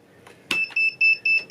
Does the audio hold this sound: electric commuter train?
no